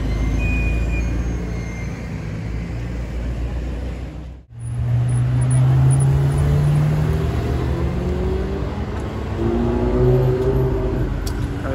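Porsche 911 Turbo of the 992 generation driving past in Monaco, a loud engine drone over steady street traffic rumble, swelling after a brief dip partway through.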